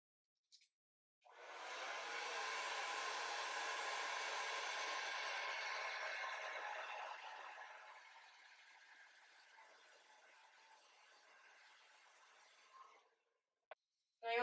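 A hair dryer blow drying hair with a brush, a steady loud airy roar running for several seconds that gradually softens as the airflow shifts, then clicks off; no talking.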